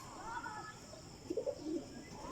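Breeder pigeon pairs coo close up in a few short, throaty bursts mid-clip, with faint chirps and a steady background hiss.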